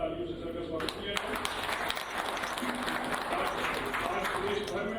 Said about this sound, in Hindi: सबसे रिक्वेस्ट करूंगा तालियों से सर का स्वागत किया जाए।